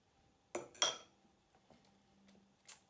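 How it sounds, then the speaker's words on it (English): A fork is pulled out of a mixing bowl of banana bread batter, giving two sharp metallic clinks close by, followed by faint scraping and one more light clink. "Take my fork out."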